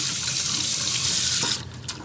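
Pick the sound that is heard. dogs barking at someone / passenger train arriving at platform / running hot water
running hot water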